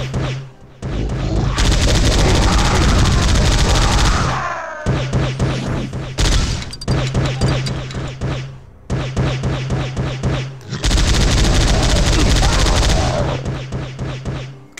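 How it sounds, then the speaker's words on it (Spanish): A machine gun fires in the PS5 release of Powerslave Exhumed, in several long, loud bursts of rapid shots separated by brief pauses, with booming impacts mixed in. "Qué maravilla, ¿eh? La metralladora esta."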